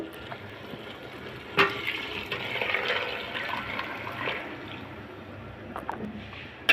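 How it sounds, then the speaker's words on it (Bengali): Boiling hot water poured into a pot of rice with spice mix while cooking tehari, a steady splashing, gurgling pour lasting several seconds at moderate, close range, with a brief clank near the start. "দিয়ে দিলাম ফুটানো গরম পানি"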